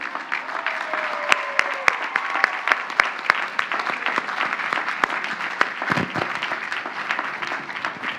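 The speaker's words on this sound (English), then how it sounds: "give them a round of applause in gratitude" Sustained audience applause at a college commencement ceremony, dense and steady clapping from a large crowd of graduates honoring families, with a faint voice briefly audible early on.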